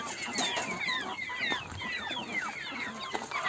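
Chickens cluck and chatter steadily on a farm that also keeps geese and ducks. Many birds call at once at close range in a busy, continuous chorus.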